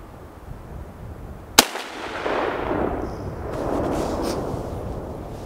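A single loud, sharp shot from a small gun cracks out close by, followed by a ringing, fading tail and an open-air hiss; no one speaks.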